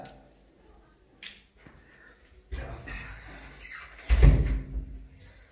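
A door swings shut indoors with a solid thud, followed by a short rattle, as guests arrive at a home and people talk and greet each other around it.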